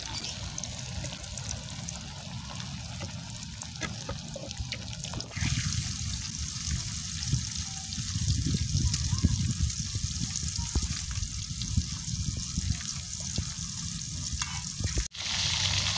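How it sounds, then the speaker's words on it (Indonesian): Sliced jengkol beans are poured into hot cooking oil and fried, giving a steady, loud sizzle and bubbling. The hiss swells as more beans go in and keeps going without a break. "sekarang jengkolnya yang kita goreng guys"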